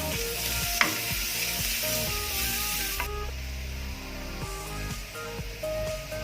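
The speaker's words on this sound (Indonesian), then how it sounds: "Kita tumis bawang bombay sampai wangi dan sampai layu ya guys." Sliced onions sauté in a hot pan, giving a continuous close sizzle and crackle of frying. Music plays over it with a steady melodic line, and no one speaks.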